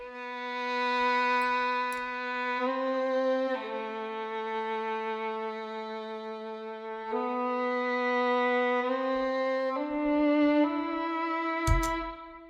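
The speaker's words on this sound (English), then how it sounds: "Next part is a tremolo string." Sustained tremolo strings play a slow melody of long held notes that change pitch every few seconds, clear and unaccompanied, ending with a faint click.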